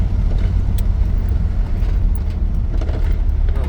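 An old farm truck drives along, its engine rumbling loud and steady up close with a continuous low-frequency drone and a few faint knocks, and no one talks over it.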